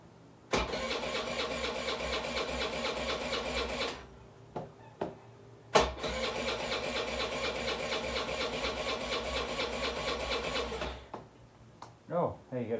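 A Honda Elite 80 scooter's starter cranks its engine in two long, steady whirring bursts of several seconds each, separated by brief clicks and a pause, heard close up, with a short human sound at the end.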